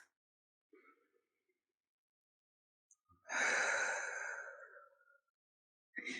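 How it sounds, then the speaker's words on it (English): A slow, deep cleansing breath during a guided morning meditation: a faint intake, then a long, full, airy exhale lasting about two seconds, close and alone in near silence. "So go ahead and just start by taking some slow, deep cleansing breaths."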